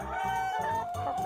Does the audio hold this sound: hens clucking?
yes